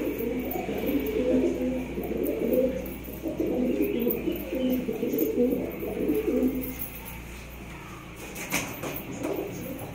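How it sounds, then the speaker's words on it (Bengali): Black high-flying pigeons give soft, repeated throaty coos in low rumbling bursts close by, with a clatter and faint background noise near the end. "পায়রাগুলো সব গম ঠোঁটের পায়রা, একদম দুর্দান্ত পায়রা সব।"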